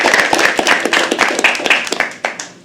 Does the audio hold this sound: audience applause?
yes